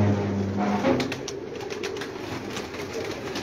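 Rooftop pigeons coo in a low continuous murmur with a few wing flutters, heard nearby under steady ambient noise, no voices.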